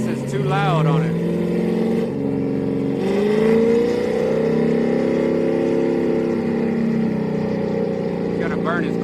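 A drag racing car at a Houston Raceway Park street night revs loudly and repeatedly before launch, its engine note rising and falling steadily throughout, with people talking over it.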